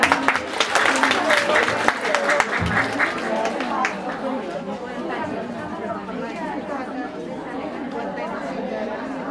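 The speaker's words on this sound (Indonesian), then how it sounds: "Oke, tepuk tangan untuk Dokter Bella." An audience applauds for Dokter Bella, with sharp claps at first that settle into a softer, sustained patter mixed with crowd chatter and murmuring voices.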